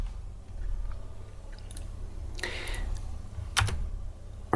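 Soft clicking of computer keyboard keys as a word is typed, a short burst of close taps over a constant background hum, no talking.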